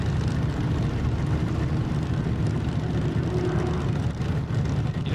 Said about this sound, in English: A slight hesitation, and then a full throttle assault into the first jump.